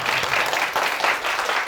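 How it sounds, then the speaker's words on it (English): Brief audience applause at a science talk, a short burst of dense clapping from a crowd, steady and fairly close. "And a little applause."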